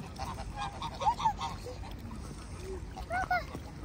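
Ducks close by give a few short honking quacks in two brief bursts over a murky outdoor background, with people speaking faintly at times.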